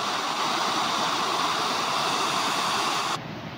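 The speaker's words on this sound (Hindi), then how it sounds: "देखिए कितना खतरनाक झरना है भाई" A mountain waterfall at Gauna Chhina in Uttarakhand gives a loud, steady, close roar of rushing water throughout, slightly quieter at the very end.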